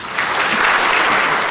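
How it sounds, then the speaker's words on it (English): An audience at a professional services awards ceremony breaks into loud, sustained applause, dense clapping throughout the short stretch with no talk. "I think you deserve a round of applause"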